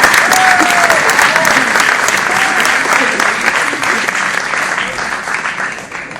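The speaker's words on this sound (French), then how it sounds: "En français aussi, on peut applaudir" Loud, sustained audience applause at a festival closing session, dense clapping with a few whoops and voices in the crowd, easing slightly toward the end.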